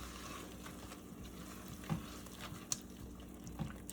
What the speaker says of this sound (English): now we're gonna stir this in